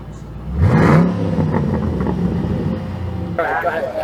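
A 2013 Ford Mustang Boss 302 with exhaust cutouts gives one sharp rising rev, then settles into a loud, rough, burbling idle before a second swell of sound, with voices nearby.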